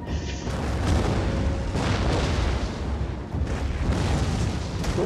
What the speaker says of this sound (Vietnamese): Pháo mình bắn tơi bời chúng nó.